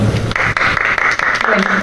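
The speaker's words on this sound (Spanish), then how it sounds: "Fuertes aplausos, por favor." Audience applause for a speaker at an obstetrics and gynecology society session in Piura, a steady wash of clapping lasting about two seconds with a voice heard over it.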